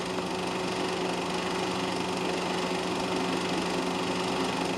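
Porsche Carrera race cars at the finish of a race, a steady, loud, continuous engine drone with a constant hum holding level throughout, no pauses or distinct pass-bys.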